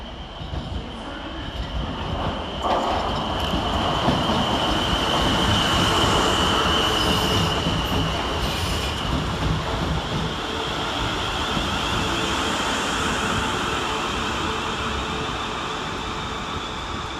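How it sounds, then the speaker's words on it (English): South Western Railway unit 450052 rolls into Basingstoke station through snow, with a sustained rumble of wheels and a high squeal from the rails growing and holding as it arrives. "we see the arrival of 450052, working 5 Zulu 51 for South Western Railway"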